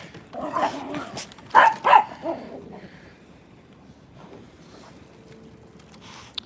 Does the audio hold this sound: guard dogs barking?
yes